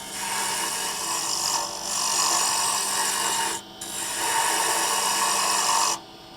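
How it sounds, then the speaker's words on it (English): Round nose scraper cutting a spinning wooden slimline pen blank on a lathe gives a steady, loud rasping scrape. It breaks off briefly near the two-second mark and again at about three and a half seconds, then stops near six seconds. "I'm going to switch over to my round nose scraper."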